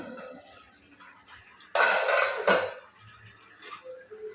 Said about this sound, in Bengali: ঢাকাটা খুলে দেখে নিচ্ছি